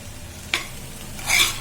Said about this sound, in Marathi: पनीर घालून घ्यायचं आणि चांगलं हलवायचं